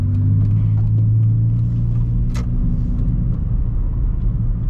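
A 2002 Mitsubishi Lancer engine cruising on a highway, a loud, steady low rumble with road drone heard from inside the car, plus a slight rise in engine tone near the start.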